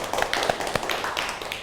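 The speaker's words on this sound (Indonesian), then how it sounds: "Beri tepuk tangan untuk Nunu." A small classroom group claps briefly after a student presentation, with uneven, sparse individual claps at close range rather than a dense wash.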